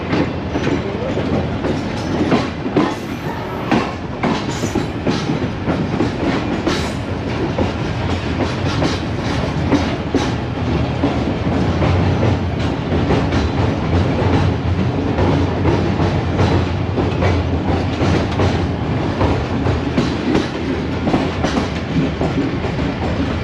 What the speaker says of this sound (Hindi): दोस्तों नॉच अप हो गया है और मेन लाइन पे आते ही ड्राइवर साहब ने नॉच लगा दी है